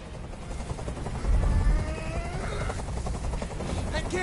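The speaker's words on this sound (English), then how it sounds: "Tell that helicopter to get out of here." A helicopter in the video game Detroit makes a constant loud rotor drone with a rumbling low end, steady throughout the short stretch.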